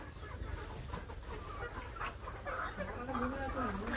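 Chickens cluck and squawk in agitated bursts as they are caught in a village yard, the calls close and fairly loud over background noise.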